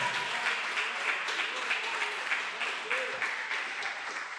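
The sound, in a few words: audience applauding at a sermon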